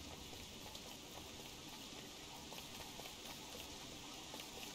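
Steady rain falling in the video game Don't Starve Together, a soft, even, continuous hiss at low volume with no speech over it.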